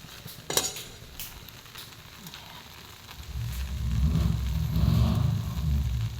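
A pot of crabs bubbles and rumbles at a rolling boil, the sound swelling louder partway through, with a sharp metallic clink near the start.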